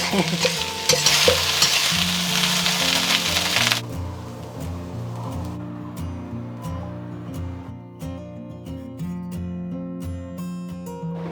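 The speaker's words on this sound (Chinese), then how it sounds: "最后出锅的时候，我们撒上一把葱花，翻拌均匀" Curry fried rice sizzling in a wok as scallions are stirred in, loud dense frying and tossing for a few seconds, then quieter scraping clicks over a backing of light music.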